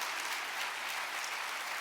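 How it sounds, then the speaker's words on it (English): An opening session audience gives a round of applause, dense and continuous clapping from many people at an even level, with no talking on top. "Let's give them a round of applause"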